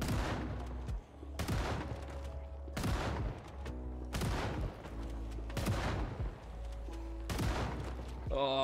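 Gunshots fired at zombies in the video game Project Zomboid, five loud booming shots at roughly even intervals, each with a decaying tail, over faint game ambience.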